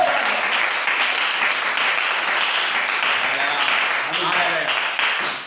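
A church congregation applauds in praise during a sermon, a broad wash of sustained clapping filling the room, with a preacher's voice and cheering rising over it.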